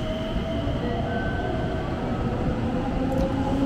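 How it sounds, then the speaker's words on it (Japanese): A JR 321 series electric train hums and rumbles steadily, close by at Inadera Station, with rolling wheel noise and faint high whines and no voices. "乗ってきたのはオレンジのラインが特徴の 321系電車。"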